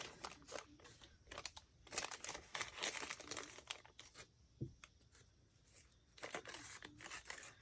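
Scissors cut through paper during a small craft project, with quick snips and crinkling paper handling in irregular bursts and a short pause midway, heard up close and quietly.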